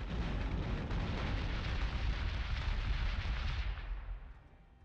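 Missiles strike starships in Battlestar Galactica Deadlock, a dense, rumbling roar of explosions that stays loud and steady for several seconds and then fades away.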